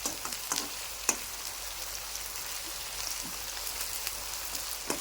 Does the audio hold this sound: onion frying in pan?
yes